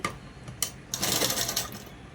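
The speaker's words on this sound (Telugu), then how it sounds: "ఇప్పుడు అసలైన క్లాత్ మీద కుట్టు వేసుకోవాలి" A sewing machine runs in short bursts and then a steady whirring run as it stitches dress cloth, heard close up with light ticking between passes and no talk.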